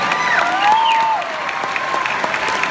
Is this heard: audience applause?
yes